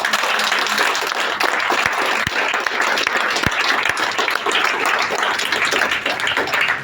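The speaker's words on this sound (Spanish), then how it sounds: "Den un aplauso a Dios." A church congregation claps together in loud, dense, continuous applause at close range, with a few sharper individual claps standing out.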